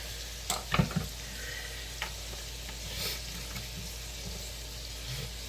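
Soy sauce, about three tablespoons, hitting a hot frying pan of General Tso chicken and vegetable lo mein, giving a low, steady sizzle with a few brief clatters and stirring scrapes near the start.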